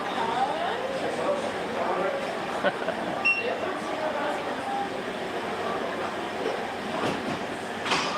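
A train rolls past in Paris with a steady, rumbling clatter of wheels on rails that lasts the whole stretch, while someone talks over the noise.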